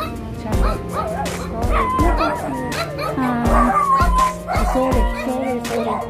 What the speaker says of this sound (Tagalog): Nagalit yung aso.